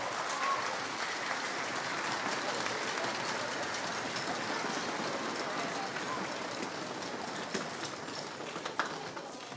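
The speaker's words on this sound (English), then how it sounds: "So if everybody could give me a round of applause in just celebrating all those different people." Sustained audience applause at a district band concert, a dense steady wash of many hands clapping throughout, holding full strength before easing slightly near the end.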